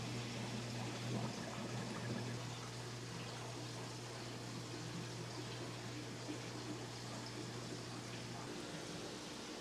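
Aquarium water from a BioCube fish tank being drained and poured into a bucket, a steady continuous splashing wash with a low hum underneath, close and even throughout.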